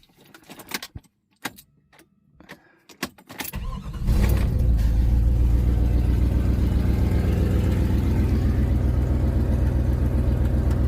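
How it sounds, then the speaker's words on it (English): A Chevy Express van is started: keys jingle and rattle briefly, then the engine cranks and catches, settling into a loud, steady idle that runs close to the microphone with a faint exhaust leak. "let's crank this van and we'll crank the Jeep and let you hear them run"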